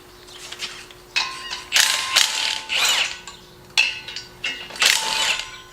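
A Milwaukee power ratchet runs in several short, irregular bursts of mechanical clicking and whirring, loud and close, during work on a pulling tractor's brakes.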